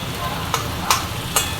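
Tomatoes and chillies fry and get stirred in a pan, with a steady hiss broken by three sharp scraping strokes of the spoon.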